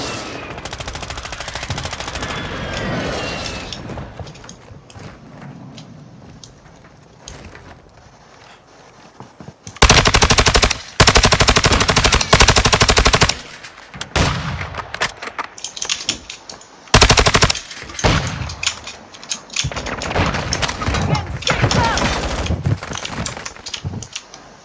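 Bursts of automatic machine gun fire in a first-person shooter video game, loud rapid volleys separated by quieter stretches of ambient game sound, with no talking.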